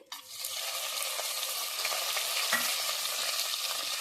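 Whole spices and ginger-garlic paste hit hot oil in a pan for coconut rice and sizzle loudly at once, a steady close frying hiss that continues throughout, with a faint stir or clink partway through.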